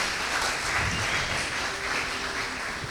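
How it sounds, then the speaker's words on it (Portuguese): A church congregation at a Sunday service applauds, a dense, steady wash of many hands clapping that carries on evenly throughout with no speech. "Um aplauso para essas meninas do Kids"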